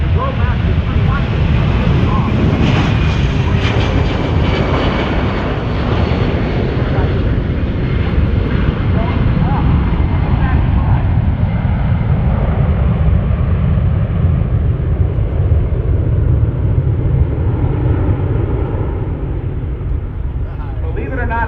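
A Boeing C-17 Globemaster III military transport jet roars loudly during an air show at NAS Oceana, a continuous heavy rumble that slowly shifts in pitch as it passes, with an announcer talking over it.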